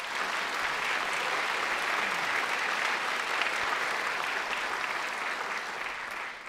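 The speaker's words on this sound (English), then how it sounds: "I'd love to give us a round of applause for our administration" Steady, dense applause from a school choral concert audience, many hands clapping together in a continuous wash of sound, moderately loud and sustained for several seconds before easing off at the end.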